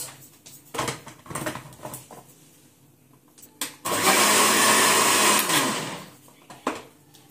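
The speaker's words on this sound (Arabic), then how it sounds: "هنضرب الحاجات دي مع بعضها كده في الخلاط." Some clattering and knocks, then an electric blender whirs loudly for about two seconds mixing liquid biscuit batter ingredients before cutting off, followed by a few more light taps.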